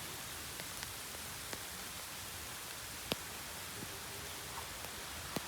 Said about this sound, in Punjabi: ਇਸ ਵਾਰੀ ਮੀਂਹ ਪੈ ਰਹੇ ਆ